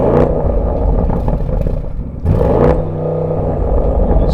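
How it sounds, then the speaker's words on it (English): Audi RSQ8 performance model with its standard performance exhaust, revved while stationary up to the soft limiter: a loud, dense rumble that holds steady, dips briefly, then surges again, close and alone without talk. "One of the upgrades that you get as standard with the performance model of the RSQ8 is a performance exhaust."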